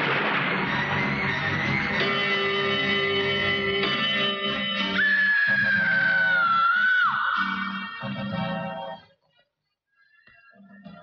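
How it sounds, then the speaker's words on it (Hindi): A girl's shrill, terrified scream cries out in a haunted mansion scene of a Hindi film, loud and sustained with a wavering pitch over dramatic music, then cuts off into near silence. "अभी अभी मैंने किसी लड़की की चीख सुनी है, ऐसी खौफनाक चीख जैसे किसी लड़की का खून किया गया हो"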